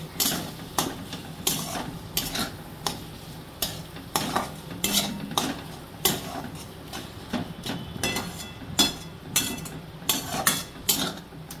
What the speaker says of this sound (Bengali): আমি সামান্য একটু গরম মশলা মেশালাম, এটাকে মিলিয়ে